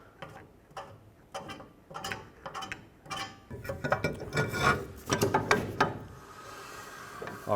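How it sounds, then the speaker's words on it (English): Adjuster wheel on a 2012-2014 Ford F-150 rear drum brake spun by hand, giving rapid ratcheting clicks in uneven bursts, close up, busier and denser toward the end, with no talking. "if you just spin this little adjuster wheel, this should push the shoes out"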